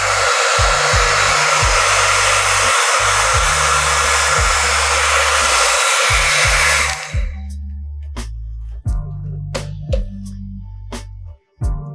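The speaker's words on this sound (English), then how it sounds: "I've turned the heat up on the air dryer." A hot air dryer blowing on paint protection film roars loudly and steadily for several seconds with the heat turned up, then shuts off, followed by scattered clicks and low motor hum.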